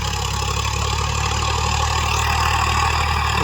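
A tractor engine runs steadily in a ploughed field, a continuous, fairly loud low idling drone with no breaks.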